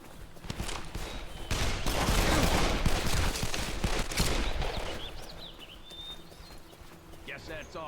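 Gunfire erupts in the video game Call of Juarez: The Cartel, a dense barrage of shots roaring loud across several seconds, then easing into scattered quieter sounds and game effects.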